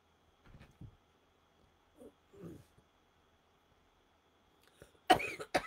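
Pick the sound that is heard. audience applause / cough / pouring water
cough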